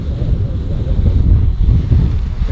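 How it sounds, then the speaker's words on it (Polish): Strong wind buffets the microphone in a loud, continuous low roar with gusty surges, steady throughout. "jest tak mocny wiatr, że on ledwo, ledwo trzyma się na tym wietrze"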